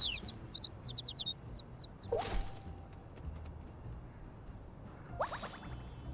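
Birds chirping in the video game Little Kitty, Big City, a quick run of bright rhythmic tweets up front, then a whooshing swish and a brief ding, with a short burst of chirps returning near the end.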